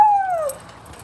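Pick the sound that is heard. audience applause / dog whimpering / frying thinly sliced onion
dog whimpering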